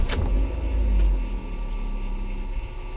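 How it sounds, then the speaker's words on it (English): A Vauxhall Zafira dual-fuel LPG car starts up in petrol mode with a brief whirr, then settles into a steady, low engine idle heard from close by. "So I'll just start the car now"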